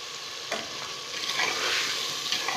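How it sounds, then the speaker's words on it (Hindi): Chicken being stirred and fried in a clay pot while cooking karela gosht, with a steady hiss of sizzling and a few soft scrapes of stirring, close and fairly loud, no voices. "अब मैं इसमें चिकन ऐड कर रही हूँ"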